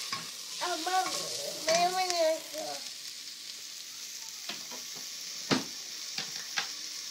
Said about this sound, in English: Our onions are going to burn.